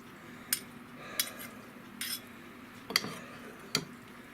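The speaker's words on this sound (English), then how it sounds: "I have a fork and a spoon, and we're just going to kind of mix the ramen noodles up into the meat" A fork and spoon toss ramen noodles through cooked meat in a pan, giving about five sparse, light metallic clinks spaced a second or so apart over quiet kitchen background, with no talking.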